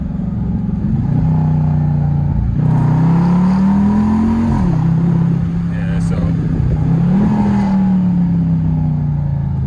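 Engine of an SRT Jeep blipping revs on paddle-shift downshifts, a steady drone that rises and dips in pitch twice as each downshift is rev-matched, heard from inside the cabin with a person talking briefly.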